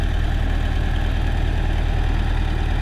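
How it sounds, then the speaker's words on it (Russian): A YuMZ-6 tractor engine idles steadily and close by at a late-evening hay-baling job, a continuous low throbbing drone with no pauses and no talk over it. "Ну что ж, Юмзик уже заведенный."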